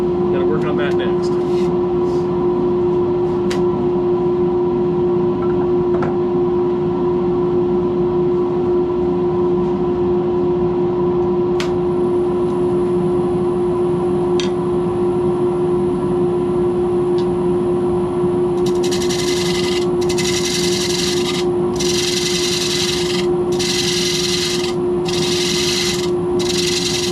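A spindle gouge cuts a segmented wooden kitchen utensil holder spinning on a lathe, giving a steady hum with scraping and rasping texture throughout. Bursts of harsher rhythmic cutting arrive near the end. A voice talks over parts of it.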